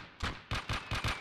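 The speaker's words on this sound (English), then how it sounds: "Mortar's still chipping away." Mortar fire in the video game Gates of Hell lands as five heavy, booming blasts in quick succession, each a sharp thump with a short rumbling tail.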